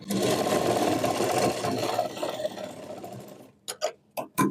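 A sewing machine stitches a knee-length frock, running in a loud steady whir for most of the stretch, then a few short separate bursts of stitching near the end.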